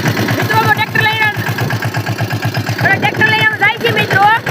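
A tractor engine running on a village farm, a rhythmic low chugging pulse at a steady pace, close and loud, with someone talking over it throughout.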